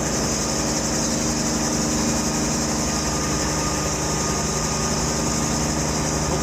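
A Bell 47 helicopter engine running near idle, a loud steady drone with a constant tonal hum and whine and no change in pitch, heard close up as if from the cockpit with no one talking.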